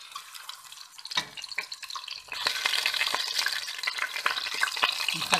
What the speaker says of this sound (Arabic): نخليه يتقلى اللحم هذا